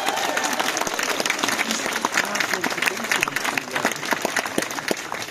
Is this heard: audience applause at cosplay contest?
yes